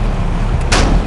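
Tank cannon fire in the War Machines tank shooting game, with a Tech Series Tier 3 Bulwark in a one-on-one match: a loud, broad blast lands near the end over a constant game rumble, followed by a second burst.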